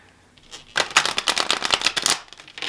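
A Kipper deck of cards being shuffled in quick riffling bursts, a rapid close run of crisp flutters that starts after a quiet moment and lasts about a second and a half.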